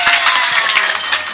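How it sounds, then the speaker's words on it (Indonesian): Short burst of audience applause at a Ramadan religious study gathering, dense clapping from a small crowd heard close and continuous for a moment. "Tepuk tangan tuh, Pak Dwi."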